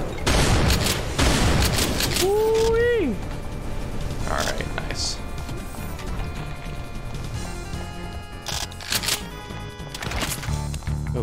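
Chain gun fire from Doom's SIGIL episode crackles in rapid bursts among other booming shots and pickup chimes, loud and dense for the first few seconds, then sporadic, with a speaker talking over it.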